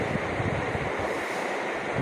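A mixer grinder grinds a whole garlic bulb, skins and all, with a little water into a puree, giving a steady, loud, unbroken whirring roar with no voices.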